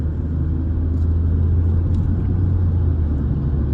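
A remapped BMW F30 with the N20 petrol engine cruises gently in sport mode, giving a steady, close low-frequency engine and road rumble throughout with no sharp revving, heard from inside the car.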